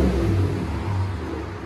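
Chevy Silverado 5.3L V8 with a Borla Touring exhaust, a deep throaty rumble revving briefly and steadily close by.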